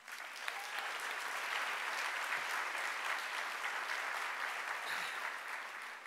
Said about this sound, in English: Let's also applaud our interim Dean of the Library, Lydia Morrow-Rutan.